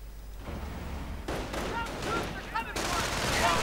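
Rifle and machine gun fire in a World War II-style strategy game, rapid bursts of automatic and single shots that grow denser as more riflemen join in, with brief voices in the background.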